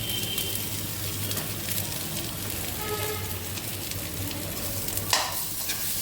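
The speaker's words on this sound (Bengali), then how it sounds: "এবার এইগুলোকে ভালো করে আমি ভাজবো। এইবার আমি এর মধ্যে দিয়ে দেবো নারকেল কোড়া।" Ingredients stir-fry in a pan with grated coconut, sizzling steadily up close while a spatula scrapes and turns them, with one sharper knock near the end.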